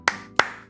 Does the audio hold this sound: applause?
yes